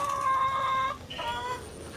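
Chickens nearby on a farm in Magalang, Pampanga, one giving a long, drawn-out call that breaks off, then another clucking call over a steady noisy farmyard background.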